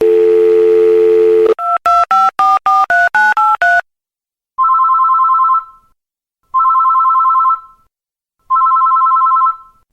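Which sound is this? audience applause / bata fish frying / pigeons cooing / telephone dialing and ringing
telephone dialing and ringing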